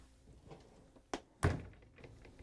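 A GE dishwasher door swings shut with a sharp knock followed moments later by a heavier, louder thud as it latches, close by and without talk.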